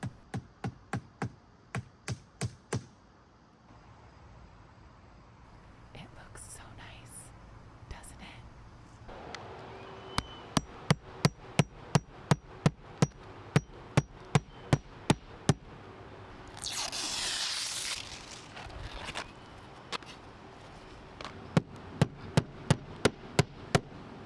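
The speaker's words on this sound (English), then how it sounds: "this is being secured with nails and a hammer." Sharp hammer strikes drive nails into a dog house roof in quick rhythmic runs, pausing between bursts, with a brief rush of noise in the middle and faint voices underneath.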